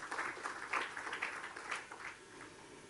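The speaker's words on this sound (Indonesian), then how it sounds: "Berikan tepuk tangan buat Tuhan Yesus" A church congregation claps together in a burst of applause that peaks early and then tapers off, fairly faint and distant-sounding in a worship hall.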